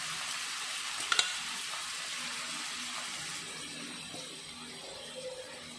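Shredded cabbage, onion and carrot fry in a pan for a homemade veg roll, a steady loud sizzle with a couple of sharp clinks of a utensil early on and no talking.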